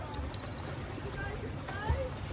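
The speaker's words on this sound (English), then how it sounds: "listen out for that audio beep" A few short, high electronic beeps from a FINIS Tempo Trainer Pro chirp in quick succession near the start, faint over a wash of water and background noise during a swim.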